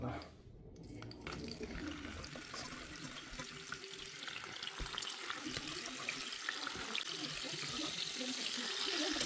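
Fish sizzling in hot oil in a home kitchen pan, a steady crackling hiss that grows slightly louder, with faint stirring and no talk over it.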